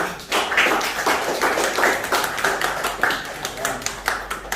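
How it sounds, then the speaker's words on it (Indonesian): Classroom applause for a group of students, a scattered patter of claps in a room with voices mixed in throughout. "sekarang beri tepuk tangan untuk kelompok pertama"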